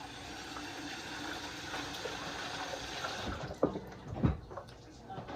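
Water running from a kitchen tap while hands are rinsed during candied yam prep, a soft steady splashing hiss with a few brief louder splashes and clunks near the end.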